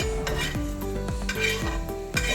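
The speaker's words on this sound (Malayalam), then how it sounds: "ചെറിയ പാത്രത്തിലേക്ക് മാറ്റാം." Roasted coriander and chilli are scooped from a hot pan into a small vessel, a series of sharp metallic scrapes and clinks of a spoon against metal, roughly every half second, close and fairly loud.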